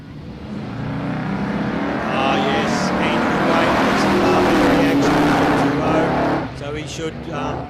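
Drag racing cars, a big block Chev powered HQ Holden and a VH Commodore, roar steadily down the strip at a street challenge, a loud sustained engine drone that swells then fades, with talk over it.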